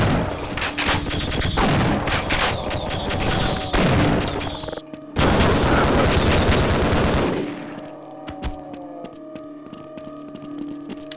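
Loud, sustained gunfire from the Half-Life: Decay video game, rapid bursts and heavy shots packed densely for several seconds, then thinning into scattered single shots and lighter clatter.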